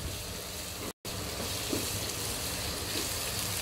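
Ginger garlic paste and green chili frying in a pan, a steady close sizzle that runs without a break apart from one brief silent gap near the start.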